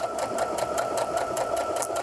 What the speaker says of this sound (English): So now when we get ready to stitch, I'm going to get a backstitch in the very beginning of my row.